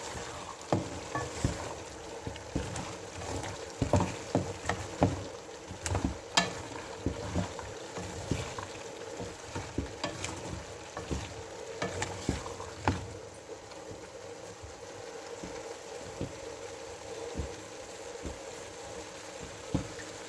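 Mixed vegetables with chopped onion greens being stirred and fried in a pan, with a steady soft sizzle under repeated scraping and clinking of a utensil against the pan throughout.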